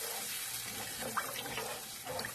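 Water pours steadily into a pot holding puree, a faint continuous splashing stream with small bubbling accents.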